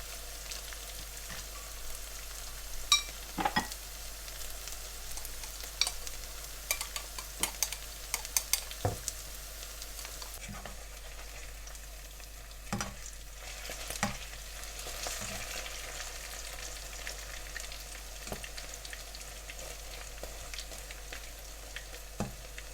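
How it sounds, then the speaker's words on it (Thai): Battered fish deep-frying in hot oil, a steady close crackle and sizzle with scattered sharp pops and occasional light utensil clicks, no voices. "เตรียมปลาชุบเป้งทอดนะ"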